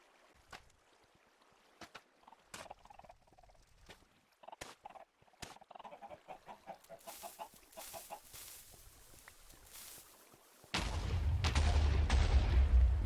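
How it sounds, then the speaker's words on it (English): In Minecraft, TNT blows up a looted storage room: a sudden loud, deep blast arrives near the end and rumbles on, after sparse clicks and chicken clucking. "I decided to make TNT and blow it up"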